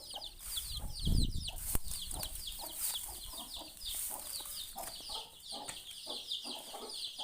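Hen clucking softly and repeatedly in a coop where newly hatched chicks are being settled, with other fowl close by and a brief thump near the start.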